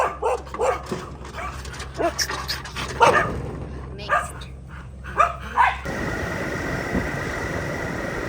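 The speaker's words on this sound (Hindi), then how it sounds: "कितने सारे कुत्ते हैं, ऑल हस्कीज।" A pack of husky dogs in a rural Thai village bark, yip and whimper in overlapping bursts close by. Then a steady outdoor rumble takes over.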